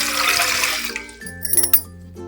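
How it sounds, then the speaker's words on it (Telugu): Water poured into a thick-bottomed pot on a stove: a rushing pour that tapers off within a second, followed by a few faint drips and light clinks. "వాటర్ పోసుకోవాలి"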